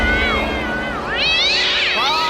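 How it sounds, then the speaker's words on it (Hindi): A cat meows and yowls loudly in a long, wavering cry that swoops up and down, continuous and close with no other sounds. "वो सिर्फ एक बदमाश बिल्ली थी"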